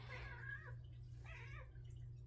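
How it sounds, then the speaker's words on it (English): A house cat meows twice indoors, asking to come up, with two drawn-out, wavering calls over a low steady hum. "my cat is back. She's asking to come up."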